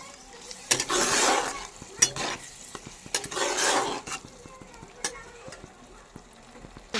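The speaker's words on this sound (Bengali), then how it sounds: "এবার দিয়ে দেবো ধনেপাতা বাটাটা। এটা দিয়ে একটু নেড়ে নেব।" Coriander paste being stirred into a fish curry masala, a spatula scraping the pan in two broad bursts with light sizzling between, followed by scattered clinks and taps, close and fairly loud, no talking.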